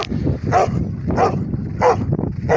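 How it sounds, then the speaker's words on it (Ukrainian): A Romanian shepherd dog barks outdoors, four loud, close, evenly spaced woofs over a faint background, with no talk. "Це є румунська вівчарка, це є пес відовець."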